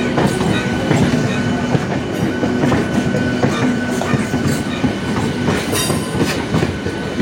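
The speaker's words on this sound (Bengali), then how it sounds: "দুটো ট্রেন একসঙ্গে যাচ্ছে" Two trains run side by side on the rails heading out toward Palla Road, making a steady, close, loud rumble with rhythmic clickety-clack of wheels over joints and a faint squeal, no voices.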